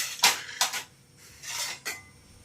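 Food is spooned from a pot into a small bowl: three or four quick metallic clinks and scrapes of a spoon against the dishes, close and fairly loud, with quiet gaps between them.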